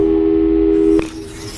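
Portal 2 telephone busy signal: a steady, loud electronic tone that holds for about a second and then cuts off abruptly, leaving a faint hum.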